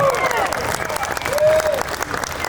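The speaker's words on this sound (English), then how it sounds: "Everybody, please give my 2 volunteers a massive round of applause." A street audience at a juggling show in Melbourne applauds two volunteers, a short burst of crowd clapping mixed with cheering, voices and a few tonal whistles.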